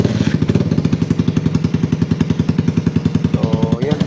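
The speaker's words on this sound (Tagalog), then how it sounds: "Maingay lang kasi ang kanyang tambutso kasi naka-open type kasi ito." A Suzuki Raider 150 carbureted motorcycle runs after starting, its open-type exhaust loud and close with a rapid, steady chugging pulse throughout.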